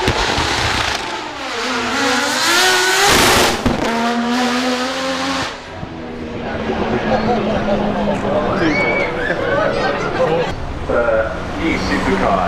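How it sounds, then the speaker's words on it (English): An Aston Martin Valkyrie accelerates up the hill at the 2025 Festival of Speed, its engine note climbing loudly through the gears as a commentator speaks over the crowd noise. "is the Aston Martin Valkyrie making its way up the hill"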